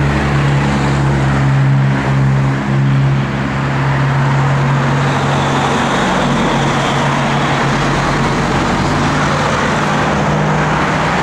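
A 1977 Pontiac Grand Prix idles with its single factory exhaust, a steady low rumbling drone that holds even and unbroken, heard up close with no voices.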